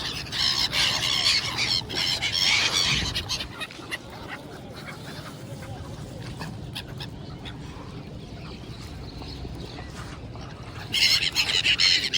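Birds call in noisy bursts at the Varanasi ghats on the riverbank, loud squealing and quacking-like cries at the start and again near the end, with a quieter stretch of ambient noise between.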